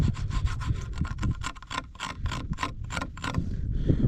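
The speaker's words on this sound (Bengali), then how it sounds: "নখ দিয়ে আঁচড়েও বরফ উঠছে না" Fingernails scratch and rub hard over frozen ice coating a snowed-on bike and its mirror, a rapid series of close, raspy strokes with no talking.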